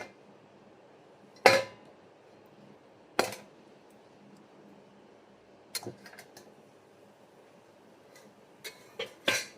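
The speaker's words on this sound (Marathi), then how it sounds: "आता मी झाकण काढून घेते." A lid lifted off a cooking pan holding mango shira gives a few sharp metallic clinks and taps, spaced irregularly across an otherwise quiet kitchen, close and fairly crisp.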